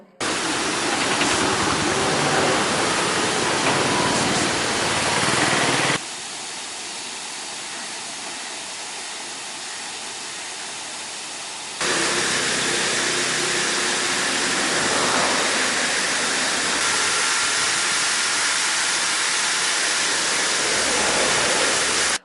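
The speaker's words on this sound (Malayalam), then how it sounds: "ഇങ്ങനെ പമ്പ് ചെയ്യുന്ന വെള്ളം പൈപ്പിൽ നിന്നും ചോർന്നൊഴുകി വീണ്ടും കോഴിപ്പിള്ളി പുഴയിലെത്തുന്നതിന്റെ കാഴ്ചയാണിത്" Steady loud rush of water gushing from a leaking drinking-water pipeline into a river, broadband and continuous, dropping to a quieter, duller flow midway before the full roar returns.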